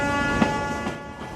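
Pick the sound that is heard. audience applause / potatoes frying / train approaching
train approaching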